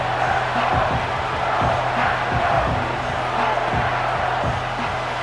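Stadium crowd noise from the Madden 25 football video game during a Lions versus Packers matchup, a steady roar of cheering that holds throughout with rhythmic thumping underneath.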